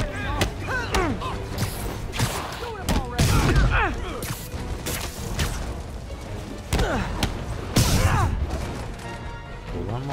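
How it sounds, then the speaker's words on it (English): Machine-gun fire in Marvel's Spider-Man rattles in repeated bursts, mixed with thuds and crashes, while a voice talks over much of the action. "Machine guns."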